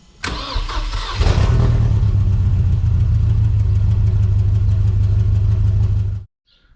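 A Mercedes W201 car engine, a swapped 230 Kompressor, cranks briefly, catches, and settles into a loud, steady idle that runs for several seconds before cutting off abruptly.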